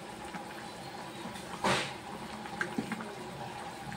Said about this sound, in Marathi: आपल्याला पाणी थोडं जास्त टाकून घ्यायचं आहे